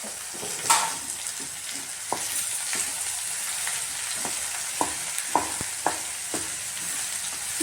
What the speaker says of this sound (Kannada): ಇದೆಲ್ಲ ಸ್ವಲ್ಪ ಫ್ರೈ ಆಗಲಿ ಚೆನ್ನಾಗಿ ಒಗ್ಗರಣೆ ಅಷ್ಟು ಬೆಂದ ಮೇಲೆ